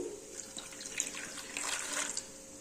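Water runs and splashes into a bowl of tamarind, a steady trickling stream with small bright plinks and gurgles, fairly close and moderately quiet.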